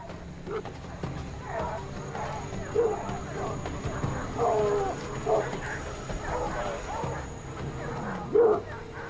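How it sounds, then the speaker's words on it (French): Several hunting dogs bark and yip intermittently at a moderate distance in a forest, over an outdoor background with a faint voice. "On fait intervenir les chiens une dernière fois."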